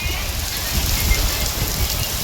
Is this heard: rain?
yes